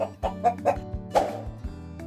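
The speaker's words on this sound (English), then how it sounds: "Chickens go cluck, cluck, cluck, cluck." A chicken clucks in a children's farm-animal sound segment: a run of short, close clucks in an uneven rhythm over about two seconds, heard alone without talk.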